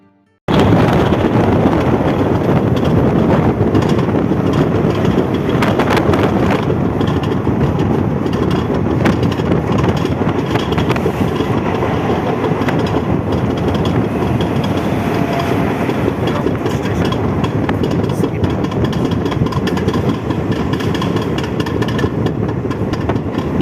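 An all-AC express train runs on its rails toward Puri, a loud, continuous rumbling roar with rattling wheel-and-track texture, heard steadily from on board without talk.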